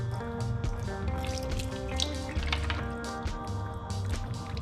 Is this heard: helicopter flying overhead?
no